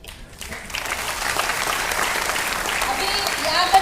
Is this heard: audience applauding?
yes